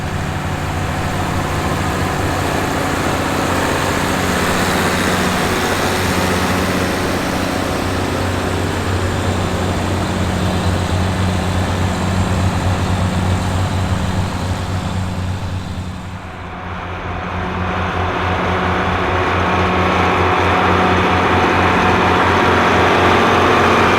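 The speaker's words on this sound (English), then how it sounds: "Here we can see the 6030 Plus tractor taking part in the plowing demonstration" A 333 hp John Deere 6030 Plus tractor plowing at a farm demonstration event, its heavy engine droning steadily and loudly, dipping briefly before resuming its even roar.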